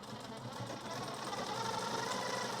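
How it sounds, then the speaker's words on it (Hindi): Sewing machine stitching a blouse, a quiet, fast and even mechanical chatter that runs without pause, with no voices. "वहाँ से रिपीट लानी है सिलाई और इसको फिर एक मजबूत डबल सिलाई देनी होगी"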